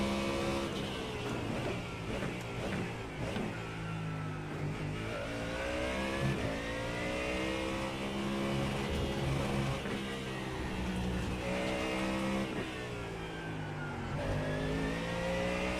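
A race car engine at Indianapolis in iRacing during a six-hour practice session, heard as a loud, continuous high-revving drone that shifts pitch steadily with the laps, with no talk.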